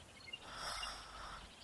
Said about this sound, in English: the birds don't stop for the rest of this shot